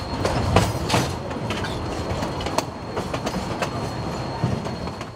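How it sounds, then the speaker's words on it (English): A train on the Cumbres & Toltec Scenic Railroad in Colorado rumbles steadily into a long mountain tunnel, with rhythmic clacking of wheels over rail joints, loud and close, with a roaring undertone. "The train rolls into a long tunnel carved out of a mountain"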